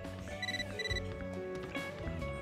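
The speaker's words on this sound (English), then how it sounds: "You got a mail." A phone mail notification chime in the video game Catherine: Full Body, a bright repeating electronic ring tone over steady game music and ambience, with no talking.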